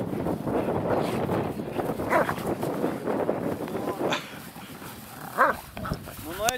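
Dogs playing outdoors, with scattered barks, whimpers and yelps over steady wind noise on the microphone, fairly close, with brief louder bursts near the end.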